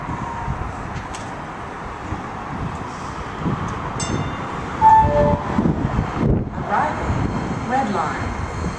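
A DART light rail train rides along the rails with a steady rumble and rattle of the car, wind noise, and a few faint tones and clunks throughout.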